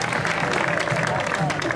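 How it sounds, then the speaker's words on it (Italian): A crowd at a Speed Down Cup awards ceremony in Sersale, Italy, applauds Vincenzo, a member of the Speed Down Project team. Steady, dense clapping mixes with voices and chatter. "Quindi un applauso a Vincenzo,"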